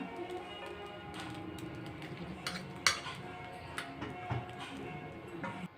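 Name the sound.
stirring fried raisins in ghee into sweet pongal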